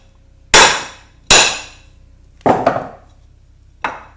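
A large hammer taps a wheel stud out of a Subaru 4x140 hub hung off the edge of a vise: four sharp, loud metallic strikes close by, spaced irregularly, each ringing briefly before fading.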